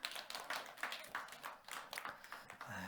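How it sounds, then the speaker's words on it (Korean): A church congregation claps for the children in a quiet, rhythmic burst of hand claps that sounds soft and somewhat distant, with a faint voice near the end. "자, 우리 박수 한번 쳐줍시다."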